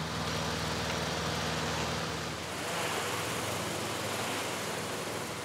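Lawnmower and chainsaw engines run together at an outdoor protest in Albi, France, giving a steady, dense, droning engine noise that holds throughout with no speech.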